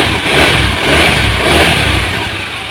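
A Honda Vario 110 carbureted scooter engine running at idle after starting, a loud close steady putter with slight swells in revs and no speech.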